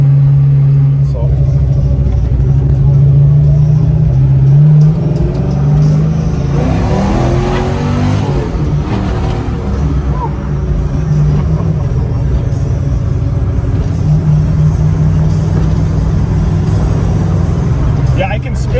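The 500-horsepower engine of a 1991 Chevrolet Blazer revs while the truck is driven, a loud throaty rumble that rises and falls throughout. Someone talks over the engine noise.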